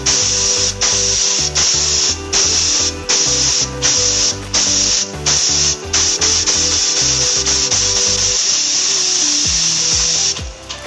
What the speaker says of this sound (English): Power flush the fluid passageway completely with the Power Pistol.